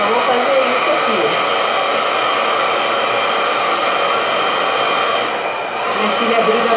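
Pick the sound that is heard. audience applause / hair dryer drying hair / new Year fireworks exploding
hair dryer drying hair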